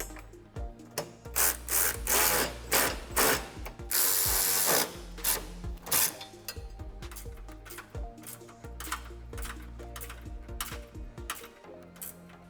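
Close mechanic's hand tools snug bolts on a Roush Max cooling upgrade kit for a 2018-2022 Mustang, giving bursts of rapid ratcheting clicks and rasping turns with short pauses between them.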